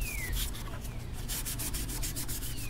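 Hand scuffing of an OBS Chevy Silverado body panel before painting, with sandpaper rubbing in quick, steady back-and-forth strokes, close and moderately loud, with no talking.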